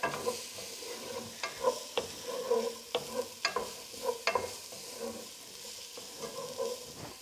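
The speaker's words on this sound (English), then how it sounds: "I'm going to add just a touch more oil to get these onions soft." Onions fry in oil in a pan for a creamy Tuscan chicken, with a steady sizzle broken by repeated scraping strokes of a stirring utensil, close and fairly loud, with no voices.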